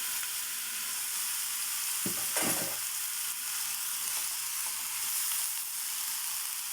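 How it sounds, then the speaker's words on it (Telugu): Ridge gourd pieces fry in a pan with a steady, even hiss of sizzling oil, close and constant, broken by a brief burst of stirring scrapes. "బీరకాయ ముక్కలు కూడా ఫ్రై చేసుకోవాలండి"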